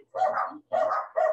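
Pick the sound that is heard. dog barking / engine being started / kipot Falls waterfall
dog barking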